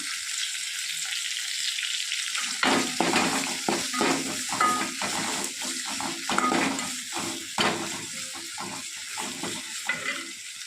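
Chopped tomatoes sautéing in a hot frying pan for a okra tamarind pachadi, a steady close sizzle that jumps up when they go in, with repeated stirring scrapes and spoon clinks against the pan.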